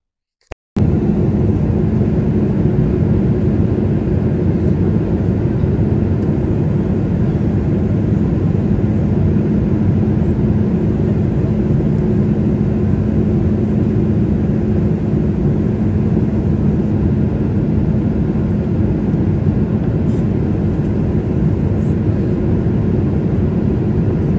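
Steady, loud cabin drone of a passenger airplane in flight on approach before landing, a constant broadband engine and airflow rumble that stays even throughout with no talking.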